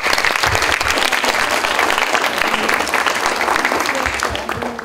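A strong round of applause for a school delegation at a public hearing in Miraflores, loud crowd clapping sustained for several seconds before tapering slightly at the end.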